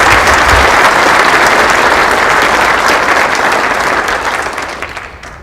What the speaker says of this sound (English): please let's give a round of applause to all of our sponsors